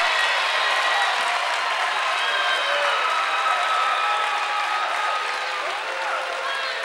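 A basketball arena crowd applauds in a dense, steady wash of clapping and cheering that holds loud and even throughout.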